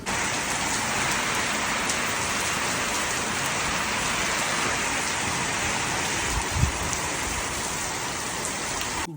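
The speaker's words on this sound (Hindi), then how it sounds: "बारिश बड़ी ही शदीद हो गई है" Heavy rain pours steadily in a rural village setting, a dense unbroken hiss of drops on surfaces with one brief thump partway through and no talking.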